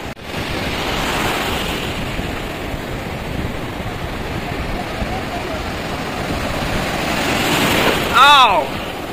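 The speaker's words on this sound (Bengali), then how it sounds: "প্রত্যেকটা ঢেউ যেন অসাধারণ।" Ocean waves break continuously on the beach at Bakkhali, a loud steady surf roar with wind buffeting the microphone and a surge near the end.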